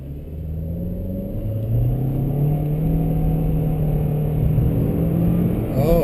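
A 2021 Kia Forte EX accelerating hard, heard from inside the cabin as a loud, steady engine drone that rises in pitch over several seconds, with no talk.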